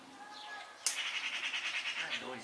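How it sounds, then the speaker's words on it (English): Blackbirds singing outdoors in a garden, a bright warbling run of rapid repeated notes after a sharp onset, fairly close, with faint background voices and other birds. "the blackbirds"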